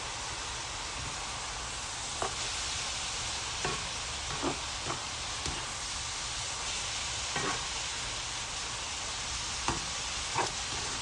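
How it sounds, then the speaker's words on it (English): Chopped onion and four cloves of garlic fry in a pan with a soft, steady sizzle, broken by occasional light scrapes and stirring taps, heard alone at low volume. "I'm gonna add my onion and garlic."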